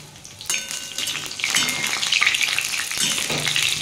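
Pointed gourd sizzles and crackles steadily as it fries in hot oil until reddish, with the oil darkened from frying; a continuous close, busy spatter with occasional stirring, no voices.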